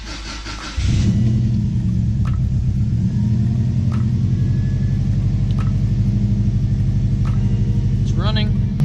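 A turbocharged Subaru Baja engine cranks, catches and settles into a steady, loud idle close by, with faint talk over the running engine.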